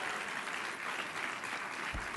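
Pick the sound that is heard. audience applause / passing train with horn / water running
audience applause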